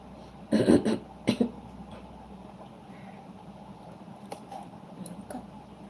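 A woman coughs twice in a quiet indoor setting, a cluster of harsh bursts followed by a shorter one, then faint background noise with small clicks.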